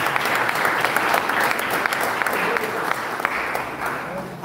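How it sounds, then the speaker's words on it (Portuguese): A church congregation claps in a loud, sustained round of applause, with some voices mixed in beneath it. "dar uma saudação de palmas para Jesus"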